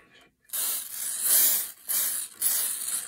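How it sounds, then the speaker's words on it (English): A spray bottle hisses in three quick bursts, close and fairly loud, with short pauses between. "I'm gonna spray this."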